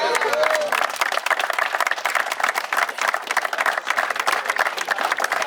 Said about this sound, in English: Big clap there, folks.